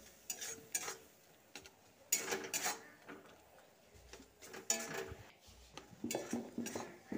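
A spoon works cumin powder, salt and turmeric with a little water in a cooking pan, giving intermittent scraping and clinking strokes in a quiet kitchen with no talk.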